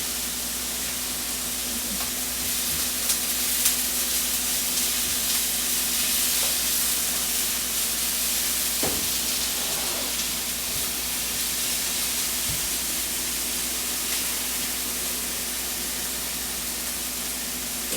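Purple onions fry in oil in a pan, giving a steady, even sizzle and hiss throughout, with a few faint clicks and stirring sounds and no talking.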